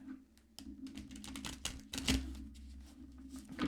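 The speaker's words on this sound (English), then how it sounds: "Just let me shuffle these." A deck of tarot cards being shuffled by hand at close range, giving a run of soft, irregular papery riffles and taps that continue steadily with no talk.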